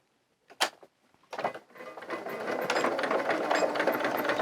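A sewing machine stitches straight across the top of a pair of children's coveralls. A couple of sharp clicks come first, then the machine whirs up into a steady, close, rattling run with no talk.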